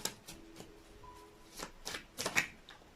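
Tarot cards shuffled and drawn by hand during a Sagittarius love reading, a run of crisp papery riffles and slaps that grow busier and louder toward the end, close up with no talking.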